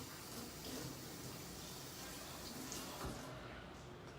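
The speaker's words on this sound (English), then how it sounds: "I washed an entire container of them, but I'm just gonna rinse off this" Tap water runs steadily into a sink while a handful of vegetables is rinsed, a soft, continuous splashing rush heard fairly quietly and close, with no talk.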